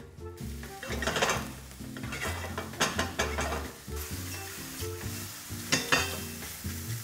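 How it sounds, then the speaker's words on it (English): Sliced portobello and shimeji mushrooms sautéing in a hot pan, a steady close sizzle broken by repeated scraping stirs and clatters of the utensil against the pan. "now we're gonna do the sauteed mushrooms"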